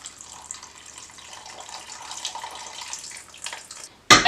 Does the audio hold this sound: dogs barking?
no